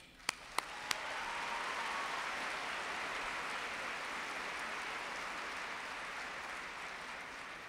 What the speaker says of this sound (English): and we applaud you